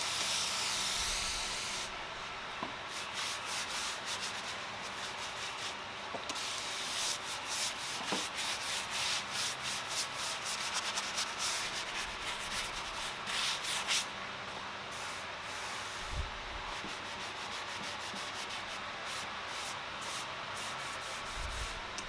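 Spray paint hisses onto a desk being turned into industrial nightstands, a close, dense spray that runs in bursts with brief gaps and faint knocks, no voices over it.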